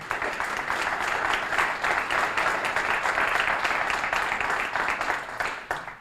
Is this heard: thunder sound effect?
no